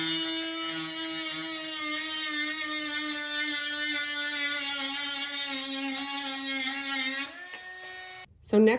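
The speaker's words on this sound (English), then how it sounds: "I'm going to line my grinder up with the mark right here. And I'm going to turn on my power source." A rotary grinder spins at maximum power against a wooden dowel, a steady high-pitched whine with dense harmonics that holds level for about seven seconds, then drops in pitch, cuts out and ends with a brief clunk.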